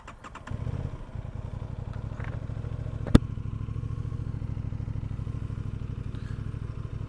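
A 2026 Aprilia Tuono 660 Factory motorcycle engine being started, a few clicks then the engine catching and settling into a steady, close, throbbing idle with a sharp click partway through.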